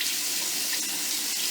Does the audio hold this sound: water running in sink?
yes